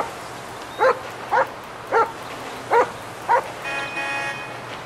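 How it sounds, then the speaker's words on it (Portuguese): A dog barks five times in GTA V, loud, evenly spaced single woofs over a steady low background hum, followed by a brief tonal electronic sound. "Aí, três, faz o cachorro latir."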